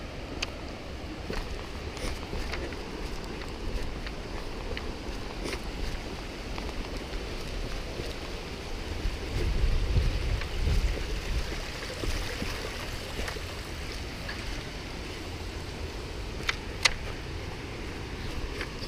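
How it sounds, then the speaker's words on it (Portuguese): A waterfall below a mountain trail on the TDS ultra route during UTMB sends up a steady, distant rushing wash, a constant low roar with occasional faint clicks, and no one speaks. "E uma cachoeira lá embaixo."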